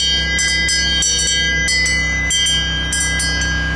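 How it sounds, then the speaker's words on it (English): The bell on a model train set rings in a dozen or so bright metallic strikes at an uneven swinging rhythm, close and clear over a steady low hum. "if we want to ring the bell."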